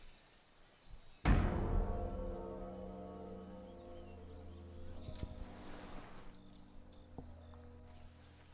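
Sailing ships glide across the sea in Empire Total War, opening with a sharp crash followed by a long rolling wash of water and wind, with faint clicks and quieter swells later.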